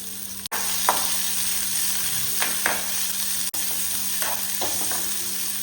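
Onion and garlic fry in an oiled pan, giving a close, constant sizzle broken by a few light scrapes and taps of a stirring utensil, with no speech.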